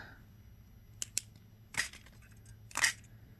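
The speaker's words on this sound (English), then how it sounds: "cut a piece off" Snips cutting a piece of beading wire at a craft table, heard as two quick close clicks followed by two louder crisp snaps about a second apart, with no talk.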